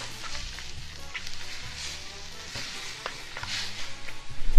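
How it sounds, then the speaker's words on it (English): Burrito filling simmers and sizzles in a pan, a steady broadband crackle with scattered pops and faint utensil clicks, growing slightly louder toward the end; no one speaks. "we'll just let that simmer for a little bit"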